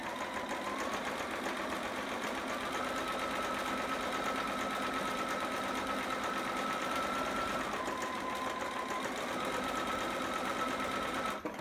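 A sewing machine runs continuously while backstitching a seam on a long john garment, a steady close hum with a slight shift in pitch partway through and no talking.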